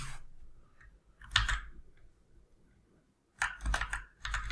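Bursts of computer keyboard typing, a short cluster of key clicks followed by a pause and then a quicker run of clacking keys, close and clear with no talk.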